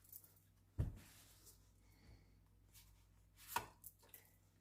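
Shuffling and cutting a deck of oracle cards, two distinct soft thumps of the deck being split and set down amid faint card rustles, close and quiet.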